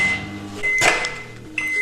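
A microwave oven heats a mug-style bowl cake, giving a steady electric hum with a thin whine, plus a brief clunk partway through and a light click near the end.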